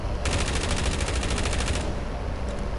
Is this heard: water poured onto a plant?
no